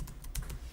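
Several crisp keystrokes on a computer keyboard during accounting software data entry, including a Tab key press, sounding close and fairly quiet with no talk.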